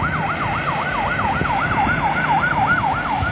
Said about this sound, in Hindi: वहां पे एम्बुलेंस भी भागती नजर आई है और मैं चाहूंगा कि एम्बुलेंस का भी वीडियो देखें।